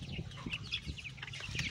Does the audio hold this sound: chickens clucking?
yes